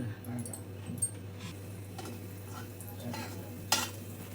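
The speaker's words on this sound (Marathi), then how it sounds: "आता त्याच्यासाठी तेल टाकून घेते, हिंग," Asafoetida tempering in hot oil in a home kitchen while making samosa filling, a low steady sizzle with soft stirring and a few faint utensil clicks, one sharper clink near the end; no talking.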